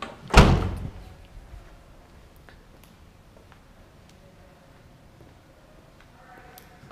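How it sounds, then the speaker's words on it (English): The slow-release tailgate of a used Chevrolet Silverado with a bed liner and tonneau cover closes with one loud, close thunk near the start, followed by quiet ambience. "slow release tailgate, so slow"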